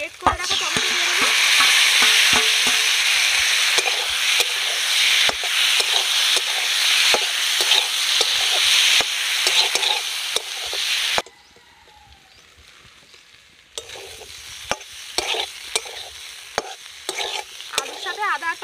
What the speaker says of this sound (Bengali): আলুর সাথে আদা আর টমেটো আমার ভালো করে ভাজা হয়ে গেছে।